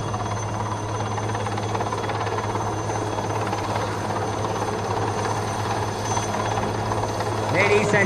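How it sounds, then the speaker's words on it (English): Continuous low rotor thrum and engine drone of Indian Navy helicopters, including a Sea King 42C and Chetak, in the air at a navy show, steady and moderately loud, with crowd murmur beneath. "we now have both the helicopters who are doing the on-the-spot turnaround"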